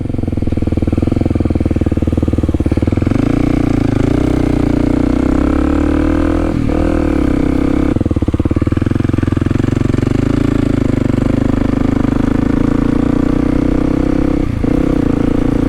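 A Kawasaki KLX300 motorcycle ridden along a street at night, its single-cylinder engine loud and close, thrumming steadily with gear changes and rises and falls in revs throughout.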